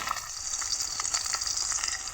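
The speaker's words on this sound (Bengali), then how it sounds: "মাছ ভাজা হচ্ছে" Snakehead fish fry in oil in a pan on a clay stove, giving a continuous bright hiss and crackle that stays steady and close throughout, with no talking.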